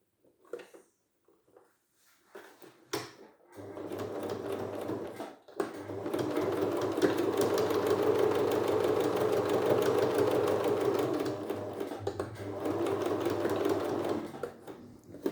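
A sewing machine topstitches a fabric face mask in bursts of fast, even needle chatter, close and clear, with short pauses and a few faint handling clicks between runs.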